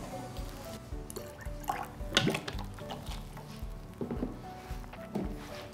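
Water being stirred into oats and milk in a bowl: soft wet dripping and sloshing sounds, close and fairly quiet, with a few sharper splashes against a low background hum.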